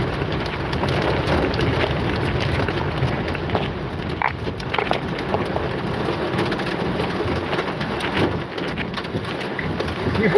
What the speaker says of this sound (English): Okay, so now when I leave, it starts hailing.